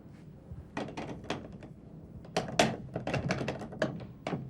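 Knuckles rap on a solid wooden door in irregular bursts of sharp knocks, first a few scattered raps, then a louder, faster volley, close and clear with no talking over them.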